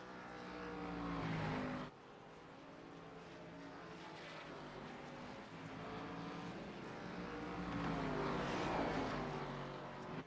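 Race cars roar around the Charlotte Roval road course in a racing video game, a continuous loud engine drone that rises and falls as cars rev and pass.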